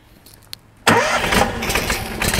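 A gas-powered pressure washer engine cranks and catches after a brief quiet pause, then settles into a loud, steady running roar close by.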